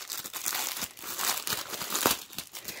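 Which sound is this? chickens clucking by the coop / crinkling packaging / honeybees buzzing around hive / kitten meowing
crinkling packaging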